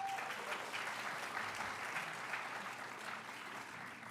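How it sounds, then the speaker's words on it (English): An audience at a heritage month closing ceremony applauds steadily, with dense, even clapping sustained throughout and no voices on top. "Let's give them a round of applause."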